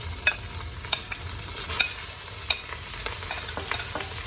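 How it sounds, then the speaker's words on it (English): Chopped onions hit seared beef in a hot pot for Cuban-style roast beef (boliche), giving a steady sizzle broken by sharp scraping clicks of a utensil stirring, with no voices. "I'm going to add all the onions now."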